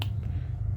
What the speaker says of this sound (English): I'm just gonna snap my fingers